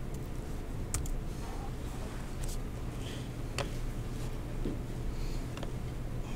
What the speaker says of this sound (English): I'm clicking and it's not doing anything.